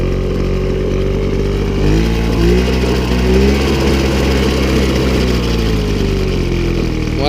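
A 1970 Motobécane 50V moped engine runs steadily at a loud, buzzy idle nearby, with a slight rise in revs partway through and a fast small-engine rumble throughout.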